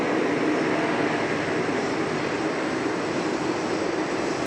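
A Qantas Retro Roo airliner at Sydney Airport produces a continuous, moderate, broadband jet roar with a low rumble, steady and unbroken throughout, with no speech.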